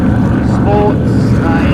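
Supercat 600 offshore racing powerboats with twin 300 hp outboard engines at the 2023 Australian Offshore Powerboats season opener: a loud, steady engine drone mixed with rushing wind.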